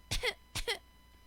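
A woman imitates a fake cough, giving two short, forced coughs in quick succession, close and fairly quiet.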